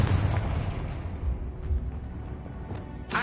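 A Confringo blasting spell explodes in the Hogwarts Legacy video game with a deep, rumbling boom that fades slowly, ending in a sharp burst.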